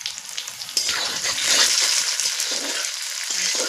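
Tomato and green chili frying in a pan with potato and onion, giving a steady close sizzle with stirring scrapes and bursts of spitting as the ingredients hit the hot oil.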